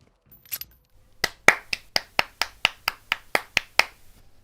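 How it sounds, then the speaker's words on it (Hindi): A run of about a dozen crisp hand claps at a steady, moderately quick rhythm, close and clear with nothing behind them. "ताली बजा रहा हूँ, गलत मत सोचो।"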